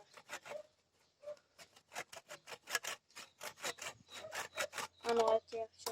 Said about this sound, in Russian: плохо как-то пилится.